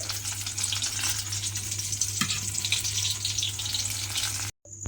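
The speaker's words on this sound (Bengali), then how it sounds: "লাল লাল করে বেগুনটা প্রথমে ভেজে নিতে হবে।" Steady, dense sizzling of eggplant frying in hot oil, loud and close, with a low hum underneath; it cuts off abruptly near the end.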